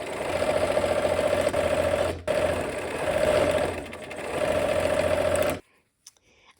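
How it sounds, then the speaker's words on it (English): A sewing machine stitching fabric pieces together from lined-up corners, running steadily and loudly for over five seconds with a brief pause, then stopping abruptly into near silence. "I'm going to sew on this side"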